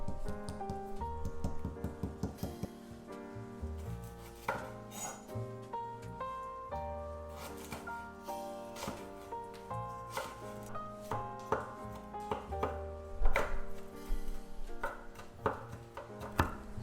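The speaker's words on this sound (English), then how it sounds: "With the lemongrass, bruise the root first before chopping them" A knife chops lemongrass repeatedly on a board in quick, uneven strokes, with quiet music playing in the background throughout.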